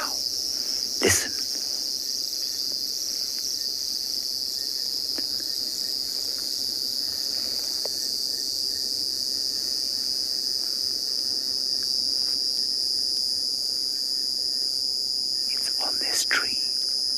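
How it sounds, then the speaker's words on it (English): A cicada calls in the South African bush, a continuous high, shrill buzz that holds steady throughout, with a few faint clicks and knocks around it. "It is a cicada"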